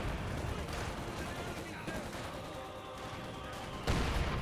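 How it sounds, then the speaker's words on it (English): In the World War II strategy game Company of Heroes 2, a mortar shell lands amid a steady rumble of battle and gunfire, with a sharper thud of impact standing out near the end. "Ooh, good mortar hit there."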